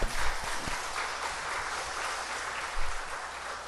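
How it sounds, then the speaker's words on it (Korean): Church congregation applauding during a Sunday worship service to welcome a first-time visitor, a steady wash of many hands clapping at moderate level that swells at the start and again near the end. "한 번 환영해서 박수 한번 더 해주시면"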